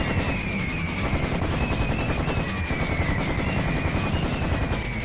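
Rapid gunfire from the Serious Sam first-encounter shooter game, a dense continuous barrage of shots with a steady high whine running through it, loud and sustained with no talk.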